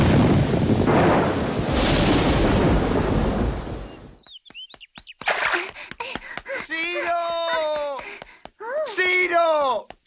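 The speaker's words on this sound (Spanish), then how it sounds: "¿Cuánto ruido hacen los truenos?" A loud, deep roll of cartoon thunder rumbles for several seconds, then gives way to people talking in Spanish, from the anime Chibi Maruko Chan.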